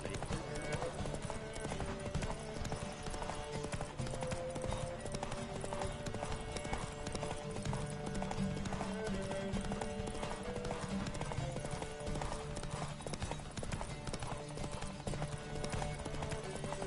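Rapid hoofbeats pound steadily as horses gallop in the video game The Witcher 3: Wild Hunt on PS5, layered with a busy game soundtrack and ambient noise throughout.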